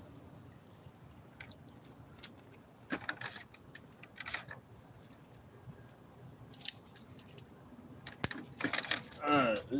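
Keys jangle in short metallic bursts as they are taken off and set down, mixed with soft handling noises against a low background hum, with no talking.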